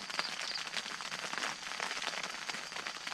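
Steady rain patters on a tent at an overnight camp beside an abandoned clubhouse, a dense, even hiss of drops with no talking, continuous and fairly close.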